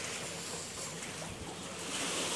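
Sea waves wash along the shore at Ahtopol, a steady broadband rush of surf mixed with wind buffeting the microphone, continuous and fairly close with no voices.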